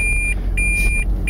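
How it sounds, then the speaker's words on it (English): A steady car warning beep repeats at an even pace inside the car over low engine rumble, each tone short and high-pitched. "sorry about that annoying beeping"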